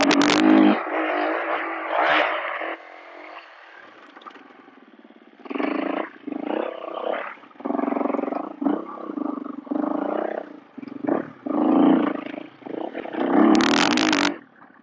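KTM 350 EXC-F dirt bike riding a lap, a close engine snarling in repeated bursts as the throttle is blipped and released, with short quiet gaps between revs.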